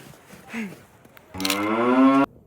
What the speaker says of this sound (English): These are the infamous Davos cows.